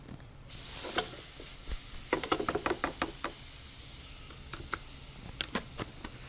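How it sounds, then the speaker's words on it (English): Minced garlic sizzles in melted butter in a pan, a steady bright hiss with scattered light knocks and taps from a utensil, close and fairly quiet, with no voices. "So we're going to get some minced garlic and put it in the pan with the butter."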